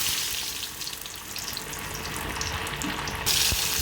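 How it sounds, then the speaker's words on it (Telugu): Fish pieces deep frying in hot oil on medium flame, a dense continuous sizzle that swells louder toward the end as more pieces go in, close and without talking. "ఆయిల్ అనేది హీట్ ఎక్కింది. ఇప్పుడు మనం దీంట్లో చేప ముక్కలు వేసుకుందాము."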